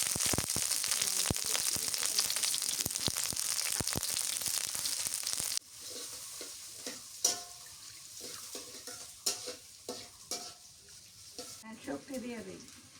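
Onion and green chilies dropped into hot mustard oil in a home kitchen, a loud steady sizzle that drops off midway into quieter scattered frying crackles and stirring scrapes, with a voice talking at times.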